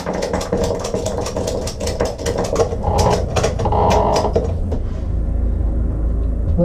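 A ratchet strap is cranked tight over a wooden boat's cockpit locker thwarts during a refit, giving a run of quick clicking ratchet strokes close by, ending in a steadier mechanical rasp.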